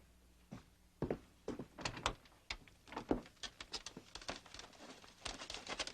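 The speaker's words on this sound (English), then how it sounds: "Get the door, would you?" A door being opened amid a run of close knocks, thunks, and rattling handling noises, irregular and moderately loud, with no voices heard.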